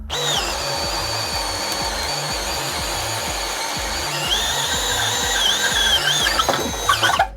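A Milwaukee 12V hammer drill at speed 2 bores into wood with a fast, rhythmic hammering pulse under a high motor whine, and the whine wavers and strains toward the end.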